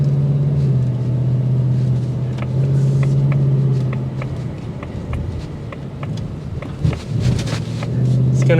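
A 2024 Ford Mustang GT Premium V8 rumbles at close range, with a low, steady hum that rises and falls as the car drives, and a voice talking over part of it.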